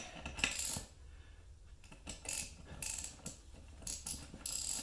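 Tire bead breaker ratchet on the Bead Buster XB-455 being cranked back in, close metallic ratcheting clicks in short uneven bursts with clanks of the mechanism between strokes, fairly quiet and with no speech.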